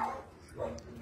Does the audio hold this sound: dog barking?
yes